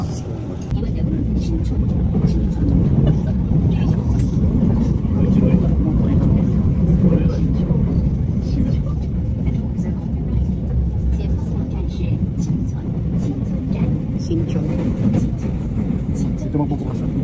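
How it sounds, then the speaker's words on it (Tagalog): Seoul subway train running, a continuous low rumbling roar with steady rattling, heard from inside the carriage while people talk over it throughout. "Ano yung tunog ng MRT nila?"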